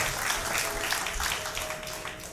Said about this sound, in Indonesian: Terima kasih Kak Nobo, kasih tepuk tangan dulu mungkin ya.